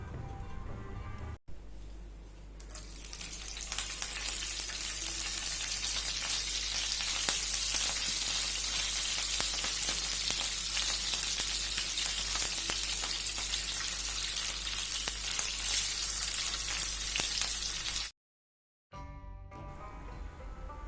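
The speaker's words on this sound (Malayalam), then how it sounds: "അപ്പോൾ ഇതാ നമ്മൾ ഇത് ഫ്രൈ ചെയ്തെടുക്കുകയാണ്. അപ്പോൾ ഞാൻ പാന് ചൂടാക്കിയിട്ട് വെളിച്ചെണ്ണയാണ് കേട്ടോ ഒഴിച്ചിട്ടുള്ളത്." Marinated prawns frying in hot coconut oil in a pan, a steady dense sizzle that runs loud and continuous for most of the clip before cutting out briefly near the end.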